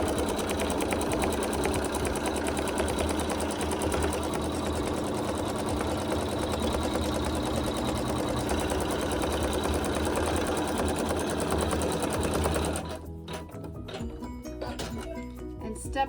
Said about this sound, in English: the machine is going to stitch an outline for where to place the optional wool